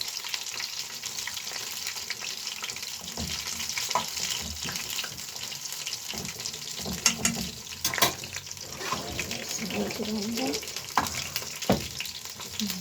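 Chicken pieces sizzling in a pan and being turned, giving a steady close frying crackle with scattered knocks and scrapes and a few louder clatters as the pieces are flipped.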